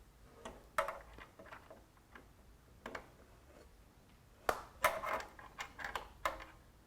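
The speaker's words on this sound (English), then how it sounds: "Now we have to loosen the bolts that mount the passenger pegs to the subframe." A Torx T45 or T40 tool works the passenger peg bolts on a BMW R1200GS, giving scattered sharp metallic ticks and clicks that bunch into a quicker cluster toward the end, close and fairly quiet.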